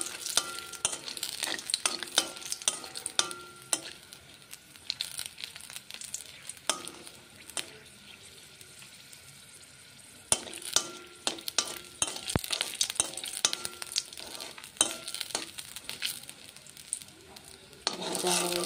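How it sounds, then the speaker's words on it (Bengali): Dried red chillies frying in hot oil in a pan, a steady crackling sizzle broken by sharp clinks and stirring scrapes of a utensil against the pan, fading quieter midway before picking up again. "এই দেখুন শুকনা লঙ্কা ভেজে নিচ্ছি।"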